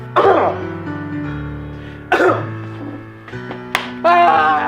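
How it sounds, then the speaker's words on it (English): Several forceful coughs into an elbow and throat-clearing bursts, spaced a second or so apart, close and muffled, each trailing off into a breathy tail. "it is very important that you cough into your elbow and not out into the open"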